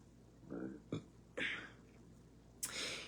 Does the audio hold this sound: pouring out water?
no